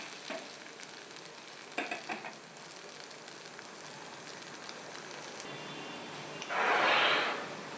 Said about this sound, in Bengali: তো এই স্টেজে আমি এগুলো এখানে ভাজতে দিয়ে দিলাম।